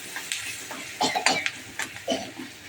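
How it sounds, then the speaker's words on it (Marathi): Onion sautéed in a pan, heard as a light sizzle under scattered scraping and clinking stirring strokes, close and moderately quiet. "चांगला कांदा परतला पाहिजे. थोडा तांबूस झाला पाहिजे कांदा."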